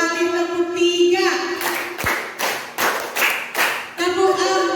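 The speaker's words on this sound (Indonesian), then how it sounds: "2 kali tepuk 3," A group of people clap in time in a counted clapping routine, a quick run of several loud, crisp claps in a steady rhythm, with someone talking just before and after.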